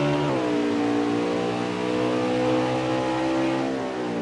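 Race car engine in a Sonoma Cup Series racing video game, revving hard and climbing through gear shifts in a continuous loud, close drone with no talk over it.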